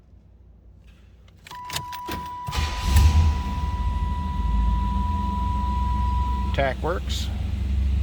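A 1987 Chevrolet Monte Carlo SS Aero Coupe cranks briefly and catches, settling into a steady low idle with a few clicks and chimes, and a short spoken remark over the running engine.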